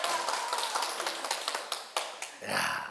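Audience members clap along at a talk, a dense run of quick hand claps with sharp individual slaps near the end and a burst of cheering noise in the last half second.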